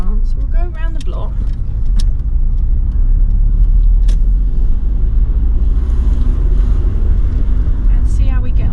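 Rover 45 car driving around a block, steady low engine and road rumble throughout with wind buffeting, as heard from inside the cabin, while people talk over it.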